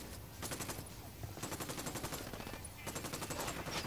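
Rapid bursts of automatic gunfire from the video game Ghost Recon Wildlands rattle in repeated volleys with short gaps between them, loud and close, with no talking.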